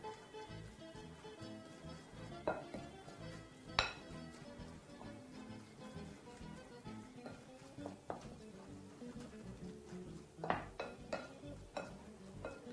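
Meat pie filling stirred in a bowl, with soft scraping and a few sharp clinks of a utensil against the bowl over a low, busy background, no voices.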